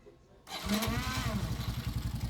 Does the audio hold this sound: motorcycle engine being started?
yes